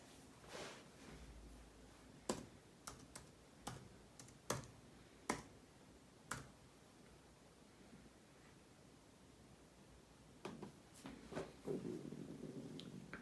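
Password typed on a computer keyboard: scattered single key clicks spread irregularly over several seconds, then a cluster of quicker taps, all faint against a hissy background.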